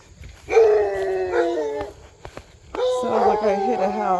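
Dogs at a house near woods howl and bark in two long, loud tonal bursts separated by a brief pause, several voices overlapping in wavering pitches.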